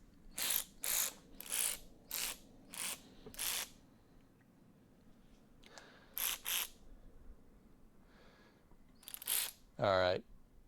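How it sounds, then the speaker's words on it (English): Battery-powered ratchet wrench running during a car restoration in a garage, several short whirring bursts in quick succession, then a pause and more bursts, loud and close. "Swap the batteries out on the ratchet."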